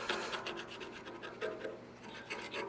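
Paint is scraped off a cold rolled steel test coupon, a quiet, dry rasping scratch repeated in short strokes at close range.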